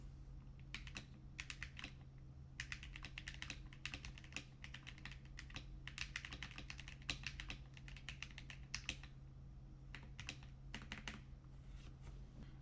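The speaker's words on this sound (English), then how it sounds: "Okay, next up we got a keyboard running Hall effect magnetic switches. Let's take a quick listen." Keystrokes on a keyboard fitted with Hall effect magnetic switches, fast bursts of close, crisp typing with short pauses between runs, alone over a steady low hum.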